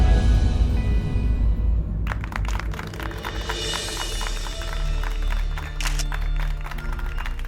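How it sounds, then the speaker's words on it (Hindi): Applause from a crowd in a police station welcoming an officer back, steady clapping filling the room for several seconds after a brief lead-in of other sound, with no talk over it. "आप ही के लिए ताली बज रहा है।"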